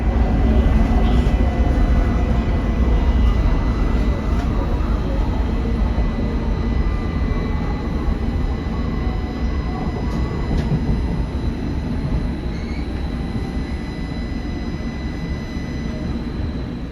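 A light rail train running between two states rumbles steadily at close range, with a constant low roar from the wheels and track and faint tonal whines that hold for the whole stretch. No voices are heard.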